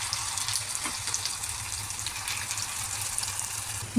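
Water pours steadily into a pan of curd and gram flour curry with curry leaves, a continuous close gushing wash that runs evenly throughout, with a brief louder splash at the very end.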